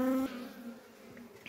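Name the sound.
bees buzzing around beehive while beekeeping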